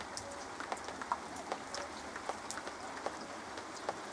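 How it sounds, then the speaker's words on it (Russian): Gentle, warm early-June summer rain falls steadily outdoors, a soft broadband patter with scattered louder drops ticking every second or so, light and even throughout. "такой мягкий-мягкий теплый летний дождик"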